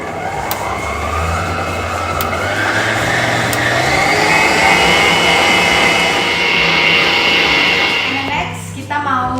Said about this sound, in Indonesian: Kita mixer dulu butter dan gula halusnya terlebih dahulu ya.